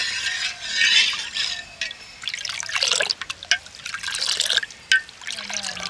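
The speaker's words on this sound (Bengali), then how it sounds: "দুধটা এখন কড়াইতে দিয়ে জাল দিয়ে নেব" Milk being poured and stirred in a wok on the stove for rasmalai, with irregular liquid trickles, drips and splashes close by, in bursts with short pauses and no talk.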